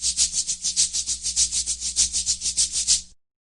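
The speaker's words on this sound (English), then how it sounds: "Maracas sound like this." Maracas shaken in a steady, quick rhythm, about twenty crisp rattling bursts of bright beads over roughly three seconds, close and clear with no other sounds, ending abruptly.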